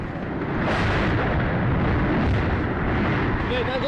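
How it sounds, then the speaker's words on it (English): Ammunition depot explosion in wartime combat, heard as a dense, continuous roaring rumble of blasts and burning, loud and steady throughout with no clear individual bangs. "We can now see the explosion from the ammo depot."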